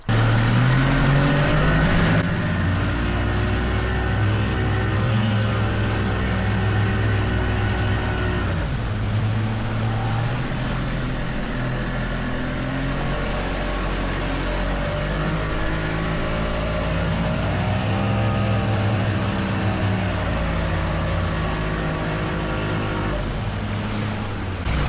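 Boat outboard engine fitted with a hydrofoil droning loudly and continuously through full lock turns, the pitch dipping and rising as it swings left and right, with water rushing underneath.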